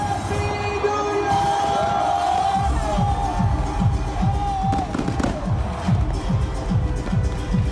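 A noisy outdoor crowd of tourists celebrates New Year in the Asia Afrika area of Bandung, West Java, amid steady bangs and whistling fireworks, the din constant and loud throughout.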